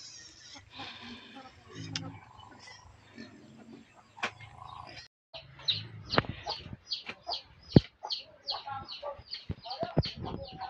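Chickens cluck and squawk nearby in short, irregular bursts that grow busier toward the end, while people talk over them at times.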